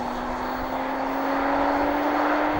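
An Audi A6 with a supercharged 3-litre V6 (290 PS, quattro, six-speed automatic) accelerates, heard from inside as a steady, moderate engine drone with a mild growl and no talk.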